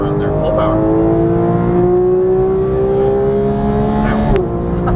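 A Porsche 911 GT3 on the Las Vegas track pulls hard at full throttle, its engine note climbing steadily and loud, then dropping briefly near the end, with a voice talking over it.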